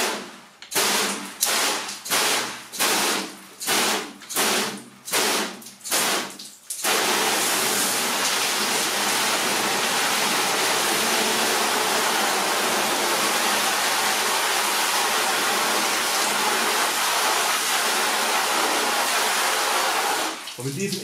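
Water pours steadily off the paintwork of a car polished with carnauba wax, in a broad continuous wash that follows a run of short bursting splashes.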